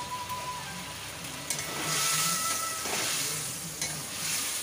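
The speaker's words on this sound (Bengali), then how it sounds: "যে সব রকম মশলা করে রেখেছি সেই মশলাটা দিয়ে দিচ্ছি।" Spice paste frying in oil for a Bengali chana dal curry: a steady close sizzle with occasional stirring scrapes in the pan, swelling louder midway, with no talking.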